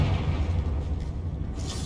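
A fiery Confringo spell explosion in the game Hogwarts Legacy, a deep rumbling boom with a heavy low-end roar that fades over about two seconds.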